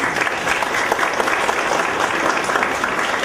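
An audience at an intergenerational cultural gathering applauds as a young poetry reader is welcomed to the podium, giving a dense, continuous wash of clapping that sounds close and steady throughout.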